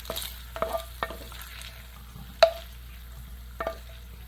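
Sausage cooking in a pan gives faint sizzling with a handful of sharp clinks and scrapes from stirring, scattered irregularly over a quiet background.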